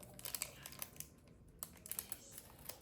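Sharp clicks and snips from cutting a part off the sprue of a Tamiya 1/10 scale Porsche 956 #20 plastic model kit, a quiet irregular run of close, small snaps and taps with no talk.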